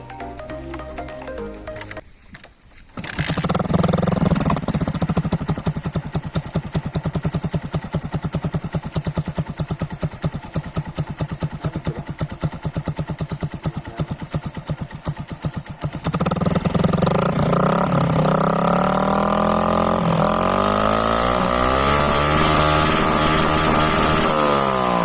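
An all-stock Honda Sniper MX 135 motorcycle with stock carburetor starts up, then runs close and loud at a steady rattling idle before revving higher partway through and holding a stronger, rising engine drone to the end.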